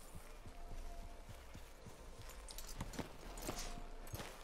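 Horse hooves clip-clopping in Red Dead Redemption 2 on PS4, a steady rhythm of soft walking hoofbeats over low game ambience, fairly quiet and close.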